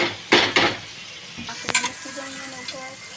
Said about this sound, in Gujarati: ટામેટાને થોડા તેલમાં ફ્રાય કરી નાખીશું।